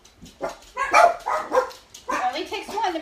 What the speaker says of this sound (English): It only takes one to make them all bark.